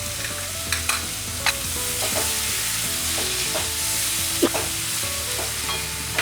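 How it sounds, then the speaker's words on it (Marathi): Tomato prawn masala with salt, kokum and turmeric being stirred and sautéed in a pan, with a continuous sizzle and frequent close scraping clatter of the spoon, and no voices. "छान एकजीव करायचं आहे, त्याला छान भाजायचं आहे."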